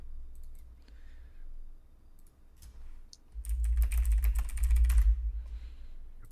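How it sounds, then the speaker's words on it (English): Keys clack on a computer keyboard with a deep bassy thud, light scattered taps at first, then a denser loud burst of typing near the microphone, with no talk. "Deep bass typing."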